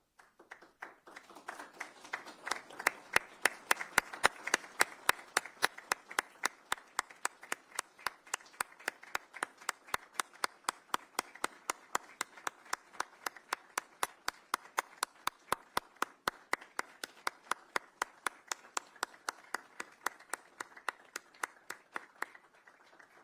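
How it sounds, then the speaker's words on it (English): Audience in a congressional policy briefing room applauding in memory of Congresswoman Sheila Jackson Lee, a steady, sustained round of clapping that builds and holds for over twenty seconds, with sharp individual claps standing out over the wash. "followed by a moment of applauding what she stood for"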